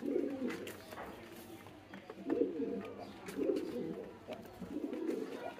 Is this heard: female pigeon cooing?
yes